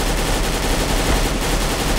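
Dense, continuous game gunfire from Counter-Strike: Global Offensive in Arms Race mode, a steady loud barrage of shots with no pauses and no talking over it.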